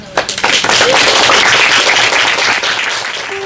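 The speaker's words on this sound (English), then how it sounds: "Je pense qu'on peut applaudir" An audience at a literary talk on Chinese crime fiction breaks into dense, sustained applause, a loud wash of many hands clapping close by that fades slightly toward the end.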